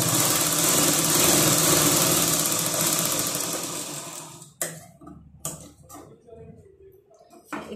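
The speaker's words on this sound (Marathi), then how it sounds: "आता याच्या एक थोडं डिस्टन्स ठेवून अजून एक टीप मारून घ्यायची." Sewing machine stitching a strip of blouse fabric, running in a steady mechanical whir for several seconds before stopping, then giving a few short bursts.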